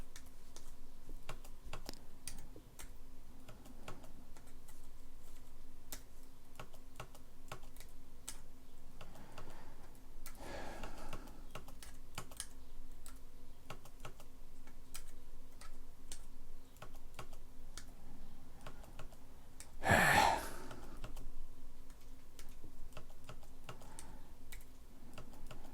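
Scattered keystrokes on a computer keyboard, soft and irregular, click over a steady low background hum during a turn-based arena game, with a couple of louder knocks.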